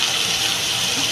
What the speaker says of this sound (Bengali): আমি এবার জল দিয়ে দেবো।